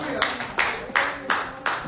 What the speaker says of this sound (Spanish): Vamos a darle una ofrenda de aplausos al Señor